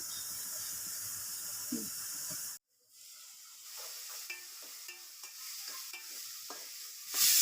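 Chopped tomatoes and onion sautéing in a pan for a dried-fish curry: a steady hiss that cuts out abruptly, then returns softer with scattered light scrapes and clicks of stirring.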